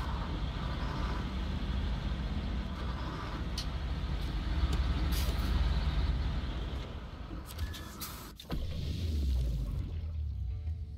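Heavy truck rumbling steadily in SnowRunner as it drives into the workshop, a continuous loud engine drone with a brief clunk and shift near the end.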